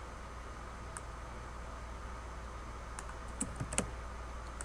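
Text is typed on a computer keyboard in a quiet room as a few soft, sparse keystrokes, clustered mostly toward the end.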